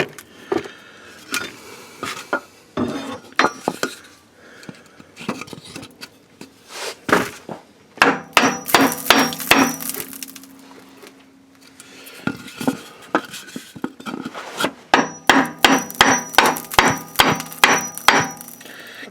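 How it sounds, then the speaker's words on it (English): Bursts of sharp hammer taps on a block of wood against a Chevrolet S10 Blazer 4WD transfer case encoder motor, quick repeated knocks in rapid clusters with short pauses between, close and fairly loud. "I'm going to use a block of wood and a hammer"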